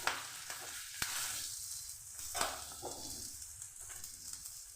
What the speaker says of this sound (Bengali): এখানে আমি দিয়ে দিচ্ছি শুকনো লঙ্কা আর কাঁচা লঙ্কা। একটু ভেজে নিচ্ছি।